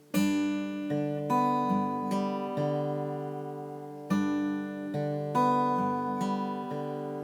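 Solo fingerpicked guitar at a moderate tempo, clear plucked notes ringing into each other in a repeating arpeggio pattern, close and fairly loud.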